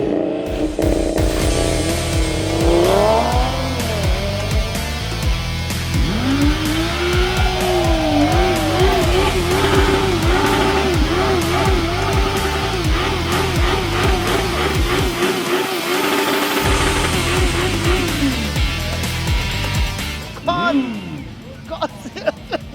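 Audi TT RS four-wheel-drive five-cylinder engine, loud and close, with repeated rising and falling revs and wavering pitch sweeps, tire squeal and skidding mixed in over about twenty seconds, and voices talking over it.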